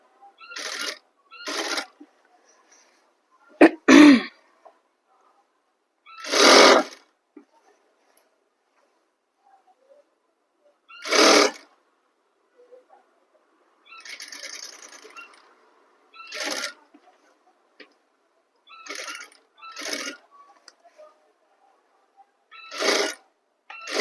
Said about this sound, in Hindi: और फिर सिलाई करेंगे